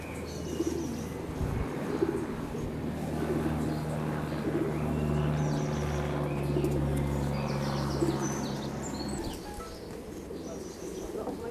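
Racing pigeons returning to their loft after a 335 km race flight, cooing and fluttering close by with scattered chirps, a steady low hum running beneath and occasional voices in the background.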